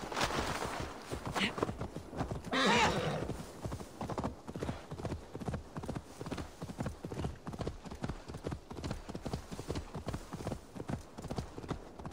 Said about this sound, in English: He's gonna get my horse to travel that river in a second.